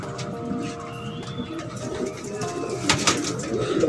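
Pigeons on a rooftop loft in Sialkot coo steadily at close range, soft rolling calls repeating over low background noise, with a brief flutter or rustle near the end.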